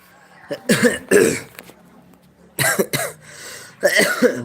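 Harsh, close coughing from a cold in three separate bursts with short quiet gaps between them, and no talking.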